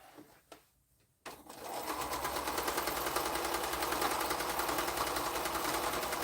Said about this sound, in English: flip it over, and then go to the machine and sew that